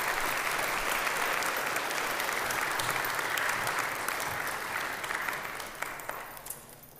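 A church congregation at an Easter Sunday service claps together in sustained, dense applause that holds steady and then tapers off toward the end.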